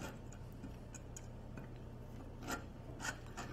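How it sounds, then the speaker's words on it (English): Serrated lock nut spun by hand onto a 3-inch stainless steel watertight Myers hub, giving soft scattered ticking and rasping clicks over a steady low hum, with slightly louder clicks near the end. "You then take the serrated lock nut, spin in the watertight hub."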